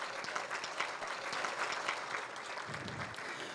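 A luncheon audience at a peace and justice benefit applauds, dense sustained clapping from many hands at moderate distance, continuous throughout without speech.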